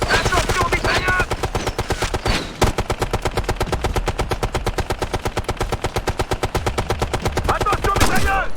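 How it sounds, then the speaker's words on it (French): Rapid machine gun fire in the combat video game Ghost Recon Future Soldier, a loud, sustained stream of closely spaced shots with brief voices calling out over the battle at the start and end. "Attention, mitrailleuse!"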